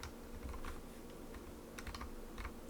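Computer keyboard keys pressed while working in Fusion 360 CAD software, a scattered run of light, close clicks at an uneven pace, quiet and alone with no talking.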